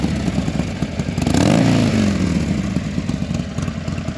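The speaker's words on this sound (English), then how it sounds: "Little twist of the throttle here." A 2020 Harley-Davidson Iron 1200 Sportster V-twin idles with a loping rumble, then a quick throttle twist swells the engine into a short rev that falls back to idle, loud and close.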